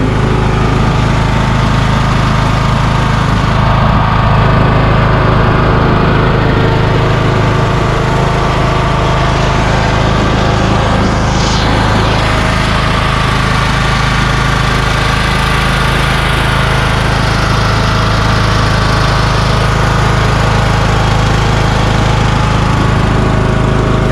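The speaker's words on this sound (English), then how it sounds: "It is driving with the Kohler Courage engine." A Craftsman YS4500 lawn tractor repowered with a 19 HP Kohler Courage engine runs loud and steady throughout, a constant mid-pitched mechanical drone with slight vibration as it drives along.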